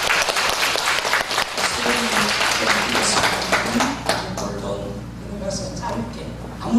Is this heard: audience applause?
yes